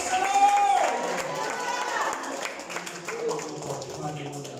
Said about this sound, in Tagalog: Bago tayo umupo, palakpak muna tayo sa ating Panginoon.